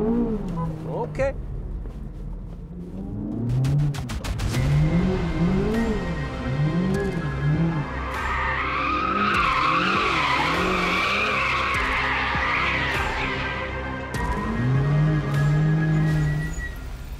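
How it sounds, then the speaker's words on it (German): A 645 PS Chevrolet Corvette Z06 drifts in second gear with a manual gearbox, its engine revving up and down in rising and falling surges while the tires squeal loudly for several seconds, with a voice heard over it. "Das Fenster, wo du driften kannst, ist bei der Z06 so."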